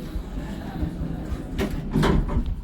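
Lift doors slide shut in a car park lift in Tunbridge Wells, a rumbling, moderately loud glide lasting a couple of seconds over low machine hum, with no talk.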